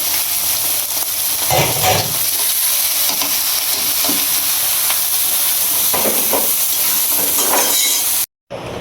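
Cooking sounds inside a home kitchen, with steady frying sizzle and hiss running loud throughout, a few stirring scrapes rising above it, and a brief dropout near the end.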